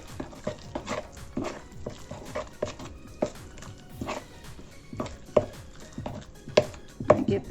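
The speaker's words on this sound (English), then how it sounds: "I give that a good stir so everything's really well incorporated to the batter." Spoon stirring butter pieces into thick banana muffin batter in a bowl, a run of irregular soft thuds and wet scraping strokes, close and clear with no talk.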